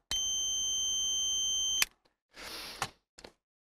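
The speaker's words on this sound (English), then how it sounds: "You cannot mistake this beep" An ANCEL PB100 automotive circuit tester power probe sounds a steady high-pitched beep for under two seconds, followed by a few short clicks and a brief burst of noise.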